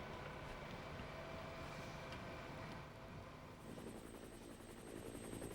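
Helicopter hovering above a bike race in central Spain during the 1999 Tour of Spain, a steady, loud rotor and engine roar that holds constant throughout with no voices.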